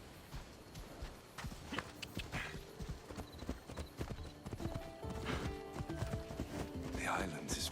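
Horse hooves clip-clopping steadily at a riding pace in Assassin's Creed Odyssey, a continuous rhythmic patter with occasional whinnies, running under game music and ambience with voices talking over it.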